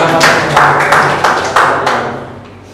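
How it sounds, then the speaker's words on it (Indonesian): A small group clapping at a school teachers' meeting, a short, loud round of hand claps with a few distinct strong beats that quickly thins and fades out. "kita tepuk tangan"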